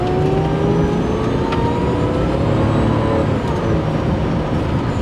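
A supercharged Jaguar XJR driving on a road, its engine giving a steady, loud drone with a thin supercharger whine running through it, close and continuous with no talking.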